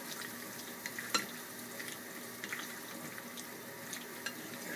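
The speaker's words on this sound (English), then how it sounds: "You can hear that pan sizzling." Peach pie filling sizzles quietly in a pan as it is tossed, a soft continuous crackle broken by small clinks and scrapes.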